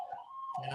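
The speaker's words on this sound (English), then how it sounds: "That's the ambulance." An ambulance siren wails faintly in the background outdoors, a short rising-and-falling electronic tone heard at a distance.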